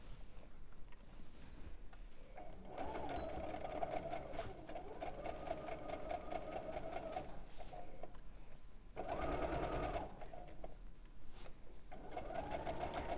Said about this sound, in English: listening to someone else on the sewing machine